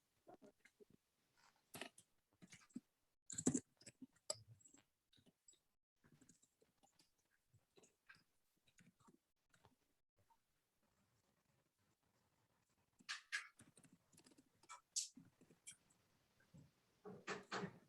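Someone types slowly and unevenly on a computer keyboard, with sparse, faint clicks in scattered clusters and long quiet gaps between them.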